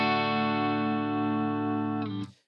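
Electric guitar played through a Boss Katana amp with compressor and chorus, one sustained shimmering chord ringing steadily for about two seconds before being cut off abruptly.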